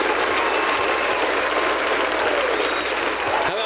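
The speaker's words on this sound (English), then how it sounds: "Round of applause for the GoldenEye fam." Sustained round of applause from a live audience at a gaming podcast livestream, steady and dense throughout with a few faint voices in the mix.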